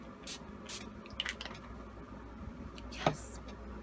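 NYX Dewy Setting Spray misted onto a face during makeup setting, a few short breathy hissing puffs, quiet and close, over low room noise.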